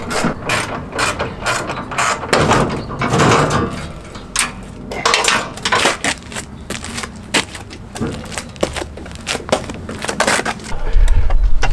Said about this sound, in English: let's start wrenching